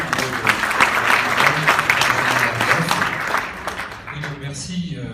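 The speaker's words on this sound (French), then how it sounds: "merci de l'applaudir" An audience at a Club de l'Eco innovation prize ceremony applauds the 2015 winner with dense, sustained clapping, with voices talking over it before the clapping thins out toward the end.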